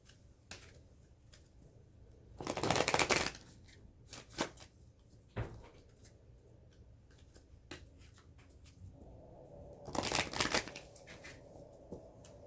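Angel Oracle cards are shuffled in a quiet room, with two bursts of riffling a few seconds apart and scattered light taps and clicks between them, close and soft.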